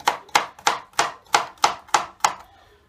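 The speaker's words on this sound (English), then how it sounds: "just cut it all up into tiny little bits so you can fry it like the onion and the garlic" Carrot is diced into tiny bits with a knife, heard as seven firm, evenly paced thunks on a chopping board, close up, with the last one trailing into quiet.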